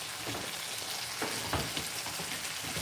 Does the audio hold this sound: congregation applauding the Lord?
no